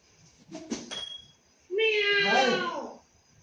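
A tomcat lets out one loud, drawn-out meow close by, following a few brief voices and indoor noises.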